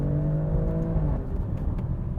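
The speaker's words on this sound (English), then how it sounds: "fantastically old school sounding exhaust note" Alfa Romeo Stelvio Quadrifoglio exhaust note: a close, loud engine drone holding a steady pitch, then breaking into a rougher, burbling roar after about a second.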